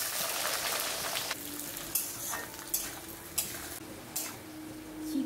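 Fried vegetables sizzle loudly as they go into a hot kadai, a bright steady hiss with periodic clinks and scrapes of a spatula stirring the pan, no talking.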